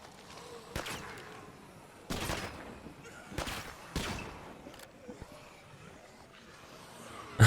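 Gunfire in the zombie survival video game State of Decay 2, a handful of sharp, fairly quiet shots spaced a second or so apart against a low background.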